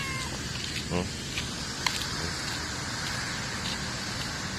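A black cat gives a short meow at a feeding spot where the cats eat, set against steady background noise and faint scattered sounds.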